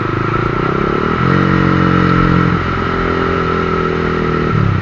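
An 11-year-old Honda CBR 150 motorcycle engine runs loud and close, its steady idle lifting into a brief rev at about one second and settling back near two and a half seconds before rising again at the end.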